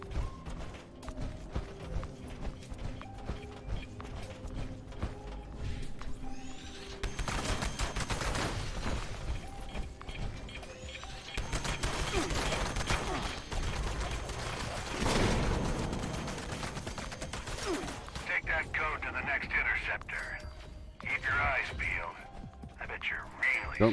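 Repeated gunfire in the game Fallout 76, bursts of shots and mechanical clanks over a long stretch with a loud heavy blast midway, mixed with game sounds and a speaking voice.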